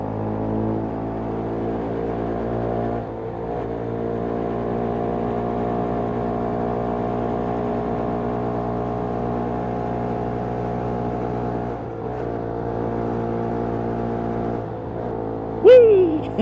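A small motorbike rides fast through a corner, its engine giving a steady, close, droning hum with wind noise, dipping briefly and then rising in a quick rev near the end.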